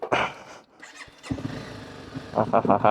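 A 2011 Honda CBR 250R motorcycle engine cranks and catches, then idles with a rough putter, while people talk nearby before and after.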